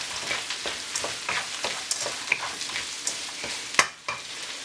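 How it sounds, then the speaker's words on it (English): Sweet corn sizzles in a hot pan while being stirred, with repeated scraping strokes and soft clinks of a utensil over the steady frying hiss. "Give it a little stir."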